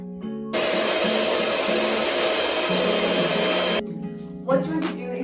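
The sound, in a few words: electric whisk whipping cream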